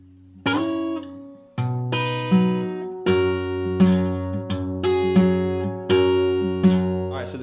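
Acoustic guitar plays a short chorus fill for a song: about six strummed chords ringing out at a steady pace, close and clear, with no voice.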